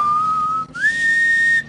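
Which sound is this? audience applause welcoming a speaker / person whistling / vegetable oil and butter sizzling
person whistling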